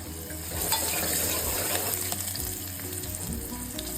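A steady, close sizzle and crackle of asafoetida and turmeric frying in hot oil, with faint stirring scrapes and no voices.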